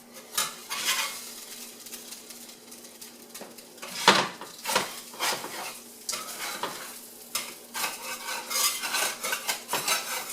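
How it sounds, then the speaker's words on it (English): A metal spatula scrapes and pries baked pretzels off a metal sheet pan, making repeated close clinks and scrapes in an irregular rhythm, with no talking. "so I do use a metal spatula in case it needs a little prying."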